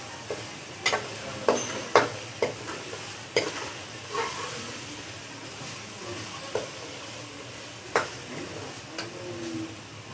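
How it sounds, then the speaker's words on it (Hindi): A cup of peas is tipped into a hot, spiced pan for egg matar pulao and stirred, with a steady sizzle under sharp, irregular clinks and scrapes of a spoon against the pan. "उसके बाद हमने जो मटर लिया है 1 प्याली, वो इसमें ऐड कर देंगे।"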